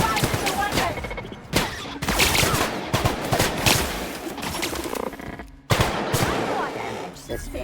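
Weapons blaze in The Outer Worlds PC game as bursts of rapid gunfire crackle loudly through a busy battle mix, with a sharp impact near the end.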